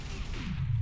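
Short bursts of gunfire crackle in Trouble in Terrorist Town, a rapid, close volley lasting under a second against low game background noise.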